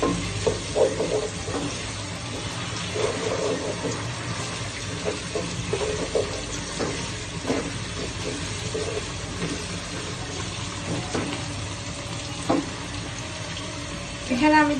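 Ginger-garlic paste stirred in a pan for Bengali chicken kosha, a steady sizzle with scraping spoon strokes and a few clinks, close and continuous throughout.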